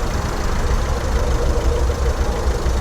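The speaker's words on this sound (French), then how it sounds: "Déjà le moteur tourne bien. On entend qu'il tourne vraiment bien." A cheap used Porsche's engine idles close by, a loud, steady rumbling drone with an even low-frequency throb and no talk over it.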